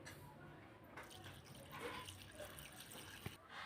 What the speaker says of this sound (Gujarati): હવે આમાં પાણી નાખીશું થોડુંક